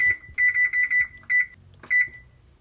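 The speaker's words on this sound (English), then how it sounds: "And then I'm just going to set my timer for 20" An oven timer beeps in a home kitchen as it is set, a series of short, clear electronic beeps in quick bursts with brief pauses, close and alone without talk.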